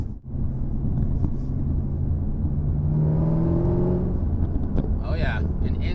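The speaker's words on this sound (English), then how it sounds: "That supercharger immediately starts small whining." Supercharged 650-horsepower Camaro ZL1 1LE V8 accelerating, a deep rumbling engine note that rises in pitch with a faint supercharger whine mid-pull, heard close from inside the car.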